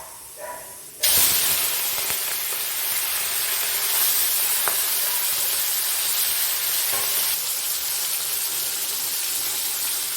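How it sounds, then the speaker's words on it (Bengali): Prawns frying in hot oil for a Bengali data chingri dish, a sudden loud sizzle as they hit the pan, then a continuous bright hiss with small crackles and pops, no voices. "এবার চলো চিংড়ি মাছটা ভেজে নিই তেলটা আমার গরম হয়ে গেছে এবার আমি চিংড়ি মাছটা ভেজে নেবো"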